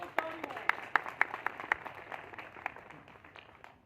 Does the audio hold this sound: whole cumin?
no